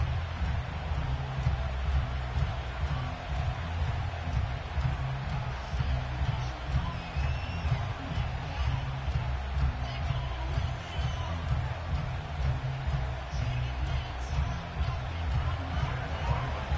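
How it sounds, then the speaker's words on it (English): A loud stadium crowd outside Buffalo in Orchard Park, New York, before a football game, keeps up a dense, steady roar of massed voices and cheering. "this crowd is loud and this crowd is ready for a ball game"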